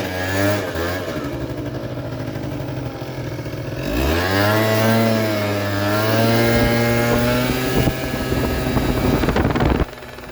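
A 50cc scooter engine running after carburetor tuning, a near, buzzing two-stroke note that idles, then revs up and holds a higher pitch before cutting back abruptly near the end.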